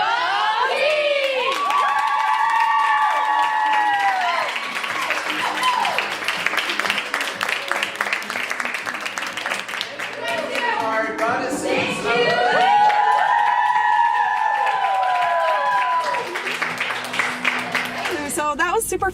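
Crowd applauding and cheering at the end of a Saje seminar in Upper Canada Mall, a loud sustained burst of clapping with whoops and shouted cheers lasting throughout, with excited voices rising above it.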